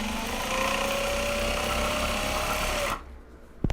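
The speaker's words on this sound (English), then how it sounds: "So enjoy some sewing machine ASMR for a few minutes" A sewing machine runs steadily through top stitching on a large box bag, a dense, even mechanical whir holding for about three seconds before it stops abruptly, leaving near quiet and a brief clunk at the end.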